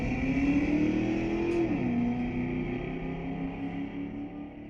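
A beige-on-brown 1975 Dodge Dart powered by a 318 V8 launches at a drag strip. The engine roars loud and steady, pitch climbing then dipping at a gear change before pulling on and fading slightly.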